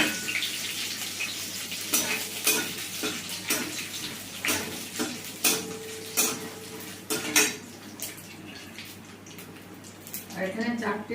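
Two dried red chillies, two bay leaves, half a spoon of cumin and salt sizzle in hot tempering oil for moong and red lentil dal in a village kitchen. Metal utensils clatter and stir while someone talks.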